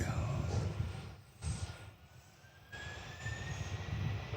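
A Southwest airliner rolls down the runway at Nashville International for takeoff, a distant low engine rumble that swells and fades in waves, with radio chatter over it.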